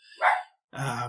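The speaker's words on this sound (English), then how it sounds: "That's my dog barking in the background there." A dog barks in the background outdoors near a lake and hills, giving one short, fairly loud bark, then a brief pause before a second, rougher burst.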